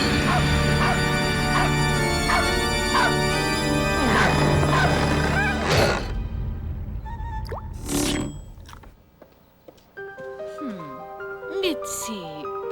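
A dog named Mitzi barks and yips repeatedly over loud commercial music and talk. After a crash, a few more scattered barks follow in a quieter passage.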